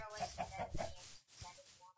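Chicken clucking in the video game Minecraft, a run of several short clucks in the first second followed by a few softer ones, moderately loud and set against faint game sound.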